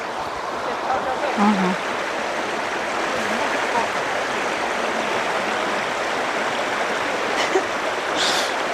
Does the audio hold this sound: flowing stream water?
yes